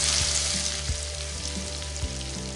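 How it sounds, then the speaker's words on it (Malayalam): Tomatoes sautéing in a pan for a vegetable pulao, a steady close sizzle with a few soft stirring scrapes and taps, no voices. "ഇതിലേക്ക് ഇട്ടിരിക്കുന്ന തക്കാളി നല്ലപോലെ വഴന്നു വരുന്നത് വരെ നമുക്കൊന്ന് വഴറ്റിയെടുക്കാം."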